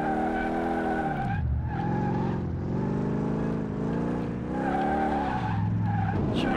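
Car tyres squeal and skid in the video game Car Mechanic Simulator 2018 under a loud, steady engine drone that rises and dips over several seconds, with no talking.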